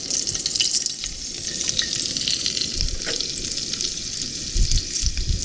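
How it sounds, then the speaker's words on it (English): Halved garlic cloves frying in a pan, a constant close crackling sizzle with a few soft stirring knocks, no talking. "I just cut my garlic cloves in half and throw them in."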